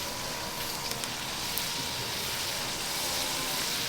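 Vegetables sautéing steadily in a hot pan in Jamaica, a soft continuous crackling hiss without voices.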